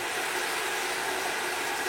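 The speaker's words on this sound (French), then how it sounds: "Je pense que vous devez entendre ma bouilloire qui fait un bruit fou juste à côté." An electric kettle boiling water loudly in a kitchen while lentils are being cooked, giving a continuous dense roaring hiss for the whole moment, with no voices.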